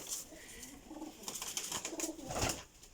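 High-flying pigeons in a breeding setup of paired birds, cooing in soft repeated bursts close by, with light fluttering and rustling around them.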